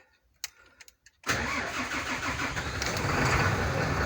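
An Iveco Stralis truck engine cranks and fires after a few quiet clicks, then settles into a loud, close, rumbling idle that grows slightly stronger.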